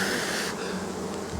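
Dense, steady buzzing of honey bees and drones crowding a hive with swarm cups, a close continuous drone with no voices.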